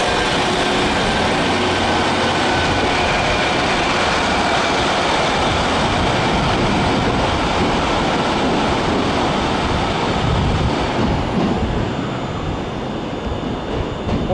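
Class 153 diesel train passing close by, a dense, loud, steady roar of wheels and engine throughout with no talking.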